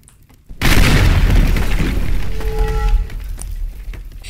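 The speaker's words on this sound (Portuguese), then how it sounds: "O creeper explodiu!" A Minecraft creeper blows up inside the Teardown game, a sudden loud boom that bursts in after a quiet moment and rolls on as a long, heavy rumble of crumbling debris.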